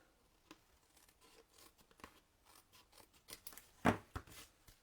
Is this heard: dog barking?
no